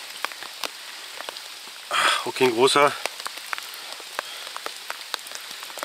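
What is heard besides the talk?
rain falling while fishing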